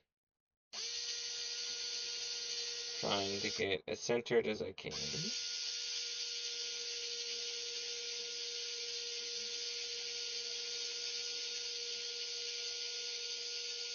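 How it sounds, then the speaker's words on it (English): A small electric drill gently boring a hole whines steadily and close, its pitch dipping briefly as it bites in, while a person speaks over it. "I very gently drill a hole in it"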